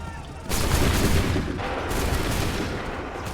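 A loud volley of musket gunfire rings out in the video game Assassin's Creed 3, a dense crackling barrage that starts abruptly and rolls on with reverberation.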